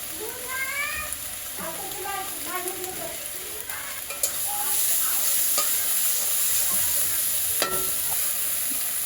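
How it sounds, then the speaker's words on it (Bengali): Spice paste with salt and turmeric sizzles and is stirred in a pan, a continuous frying hiss that swells louder halfway through, while a cat meows repeatedly nearby early on. "এবার দিয়ে দেবো লবণ আর হলুদ দিয়ে আর একটু মশলা করে কষে নেব"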